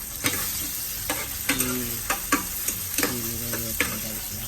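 Garlic and onion sauté in oil for mussel tinola, a close steady sizzle broken by a run of sharp spatula taps and scrapes against the pan at an irregular rhythm, with no voices.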